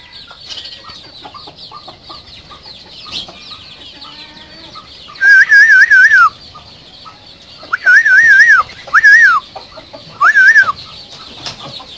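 Several chickens cluck amid background chirping, while loud whistled bursts come in four separate spurts over the farmyard sound.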